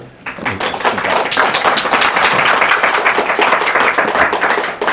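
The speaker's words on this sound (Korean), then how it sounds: "오기영 의원님을 박수로 모시겠습니다." An audience at a capital-market reform forum claps to welcome a lawmaker. The applause is dense, close and steady for about five seconds, with no talk over it.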